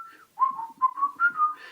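A single person whistles a melodic tune in short clear phrases of rising and falling notes, close and solo with no other sound.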